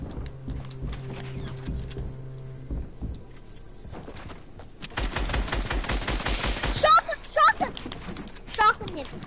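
Rapid shotgun and gunfire bursts in a multiplayer shooter game, loud sharp shots clustered in the second half, with people talking over the action.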